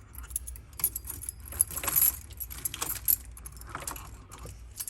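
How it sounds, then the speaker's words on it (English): A set of keys jangling at a workbench, with repeated close metallic clinks and rattles in uneven bursts throughout, and no talking over them. "I think I've got a set of keys"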